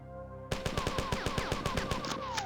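Rapid bursts of automatic gunfire from the classic first-person shooter Marathon, about a dozen sharp reports in an uneven stream after a half-second of quiet, with metallic ricochet tails.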